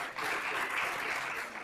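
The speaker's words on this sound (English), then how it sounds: "Give yourselves a round of applause" A crowd at a science plenary session applauds itself, producing a smooth, sustained roar of clapping that swells quickly, holds steady, and eases slightly at the end, with no voices on top.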